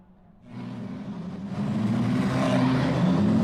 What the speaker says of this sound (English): The engines are back on and we are out of the pits.